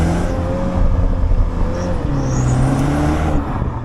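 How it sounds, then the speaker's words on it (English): A 2024 MINI Countryman John Cooper Works engine hums steadily up close, and a thin, high turbo wastegate whistle rises briefly over the motor partway through. "There's a kind of whistle that comes from, I think, the wastegate on the turbo."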